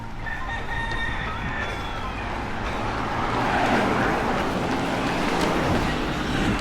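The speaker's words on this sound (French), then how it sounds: "Les poules." Out in the open in the Dominican Republic, a rooster crows loudly over a steady bed of clucking chickens, with distant traffic hum underneath.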